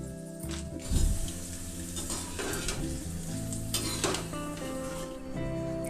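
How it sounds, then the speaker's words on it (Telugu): A sprig of curry leaves fries in hot oil left over from making crispy karapusa, giving a loud, dense, continuous sizzle and crackle up close, with a brief burst of spitting near the start and no talk. "ఒక రెమ్మ కరివేపాకు తీసుకొని ఇదే ఆయిల్లో ఫ్రై చేసుకోవాలి"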